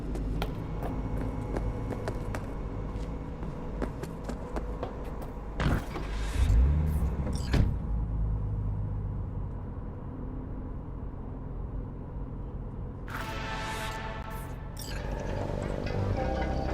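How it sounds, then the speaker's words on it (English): Car driving in Cyberpunk 2077: a steady low engine hum runs throughout, with a couple of brief mechanical whooshes and creaks partway through and a rising surge near the end, no talking. "I'm driving."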